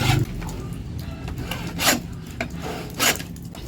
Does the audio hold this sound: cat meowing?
no